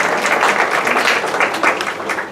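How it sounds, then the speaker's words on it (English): Quick round of audience applause at a talk, a short burst of dense clapping, close and fairly loud, holding steady for a couple of seconds. "So quick round of applause."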